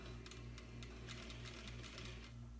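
A sewing machine stitches the final seam of a fabric wristlet, its needle running in a steady, close mechanical whir with quick repeated clatter, loud and continuous with no talking.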